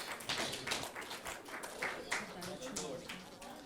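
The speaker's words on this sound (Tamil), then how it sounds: "எல்லாரும் நல்லா கைதட்டலாமே" An audience claps at a Tamil poetry award ceremony: dense, steady applause holding for the whole stretch at a moderate, slightly distant level, with voices mixed in underneath.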